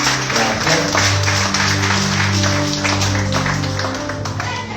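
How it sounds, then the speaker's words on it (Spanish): Church audience giving a loud round of applause for a visiting conference speaker, dense crowd clapping mixed with music and faint voices, tapering off gradually toward the end. "Un fuerte aplauso, por favor."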